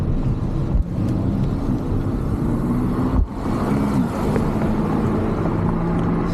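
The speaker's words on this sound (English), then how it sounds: "I can let this car pass me." A car passing a cyclist on a road, heard as a steady loud engine and tyre roar close by with wind noise, with no talk.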